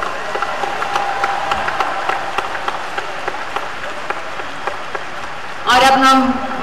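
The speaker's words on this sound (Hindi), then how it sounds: "माननीय प्रधानमंत्री जी के लिए ऐसी तालियां बजाकर उनका धन्यवाद करें।" Applause from a large outdoor audience at an International Yoga Day event thanking the Prime Minister, a steady distant patter of many hands, with a short burst of speech near the end.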